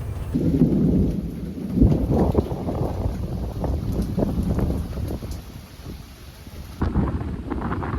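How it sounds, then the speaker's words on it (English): Heavy rain pours steadily on a Kansas farm during a flash-flood storm, with deep rumbles of thunder rolling underneath, loud and close throughout. "Pretty good rain, close to 2 inches, I would say there."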